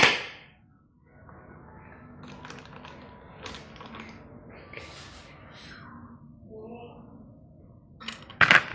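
A size 14 socket wrench works a nut loose on an old bicycle being rebuilt for touring. Close metallic clicks and clinks come in irregular bursts over a quiet background, with a louder clatter at the end. A person speaks briefly.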